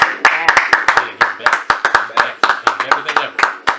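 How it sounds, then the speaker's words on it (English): A small group claps in bursts of sharp, uneven hand claps. The clapping is close and loud, with some shouting and talk mixed in. "Clap it up, people."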